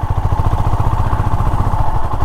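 A motorcycle engine idles on a rural road trip, a steady, loud, close putter with a rapid low pulsing rhythm and a constant mid-range hum, running alone without talk.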